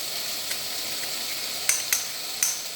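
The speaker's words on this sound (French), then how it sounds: "Alors, ensuite, on va ajouter l'ail." Garlic hits a hot pan and sizzles steadily, a bright hissing fry broken by a few sharp crackling spurts near the end, close and alone.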